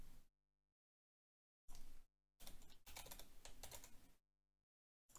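Quiet bursts of typing on a computer keyboard: a short burst of clicks, a pause, then a longer stretch of rapid keystrokes, with no talking.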